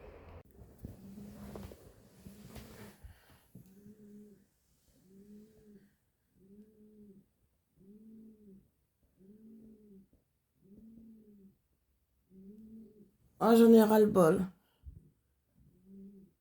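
A steady series of low, soft pigeon coos repeating at regular intervals, close by at 6:21 in the morning, with a voice speaking briefly at the start and a louder outburst near the end.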